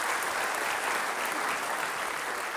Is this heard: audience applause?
yes